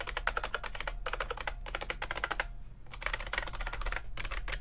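Bursts of rapid clacking from an IBM Model M buckling-spring keyboard, typed up close with brief pauses between runs, over a low steady hum.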